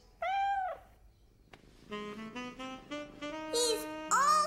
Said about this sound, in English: He's purring. That means he's happy.